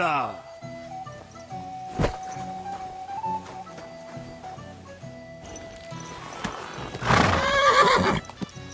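A horse in the medieval video game Kingdom Come: Deliverance II gives a loud, close whinny near the end after clip-clopping hoofbeats, over game music and with characters speaking.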